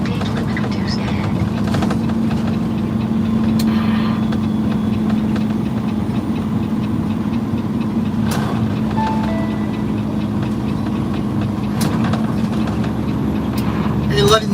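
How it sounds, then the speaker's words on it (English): A truck's engine brake drones steadily and loudly from the cab while the rig slows down, a constant low rumble with road noise. "letting the engine brake do as much of the work as possible."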